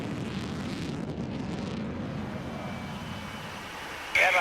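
A Eurofighter jet on full afterburner reheat roars past on a wet runway, a broad rushing blast that gradually thins and fades before a sudden sharp burst of noise at the end.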